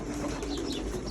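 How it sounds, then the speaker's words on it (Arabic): Pigeons coo steadily inside a loft, a dense murmur of overlapping soft throaty calls close by, with constant low background noise and no talk. "بص شكل الحمام عامل ازاي على فخار"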